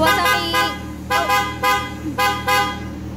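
A horn on a Kawasaki motorcycle honks in several short, loud bursts at an uneven rhythm, close by, over a steady low engine hum.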